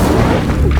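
A Repulso spell is cast in the video game Hogwarts Legacy, one loud, deep booming blast of force that fills the whole short moment, close and heavy with a rumbling low end.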